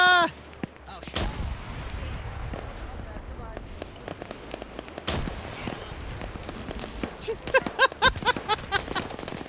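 Grenade blasts and gunfire fill a trench warfare close-quarters training session in a video game, with heavy booms near the start and midway, scattered rattling shots throughout, and voices talking over the din.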